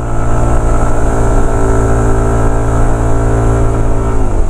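A 2025 Yamaha NMAX Techmax scooter accelerates with its turbo mode, a loud close engine drone rising steadily in pitch alongside rushing wind, with no talking.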